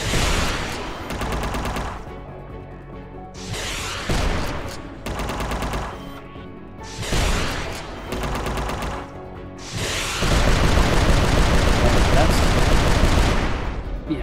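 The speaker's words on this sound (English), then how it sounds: "That's 4 shots." Repeated bursts of rapid gunfire from the video game UnMetal, several loud volleys separated by short gaps, ending in a longer sustained barrage, with no voices.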